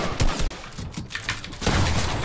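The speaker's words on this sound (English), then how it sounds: "Wait, he just shot through it." Rapid bursts of gunfire in a competitive shooter game, dense and loud, with sharp volleys throughout and a brief dropout about halfway.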